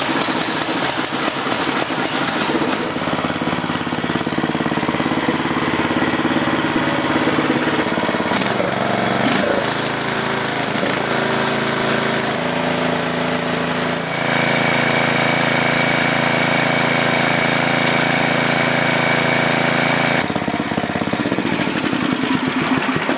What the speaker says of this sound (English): the final thing to do is to start up your engine to make sure everything's good